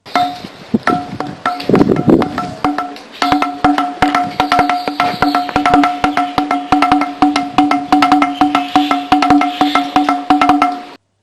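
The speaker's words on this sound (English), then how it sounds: "if you tap this, you will hear the sound of these drums" Rapid taps on a stone pillar ring out as resonant, drum-like tones, struck in quick irregular bursts and sustained runs, close and loud.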